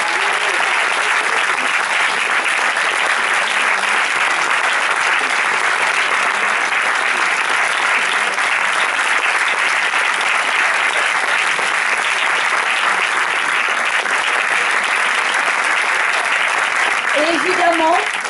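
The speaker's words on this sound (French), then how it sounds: "Vous pouvez aussi applaudir donc" Sustained audience applause at a film premiere for the movie Les Jeunes Amants, a dense, even wash of clapping continuing steadily for the whole stretch, with a voice faintly emerging at the very end.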